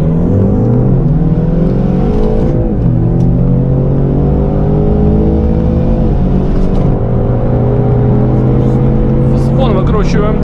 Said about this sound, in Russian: Вон выкручиваем двигатель, короткие передачи, на третьем мы разгоняемся до сотни.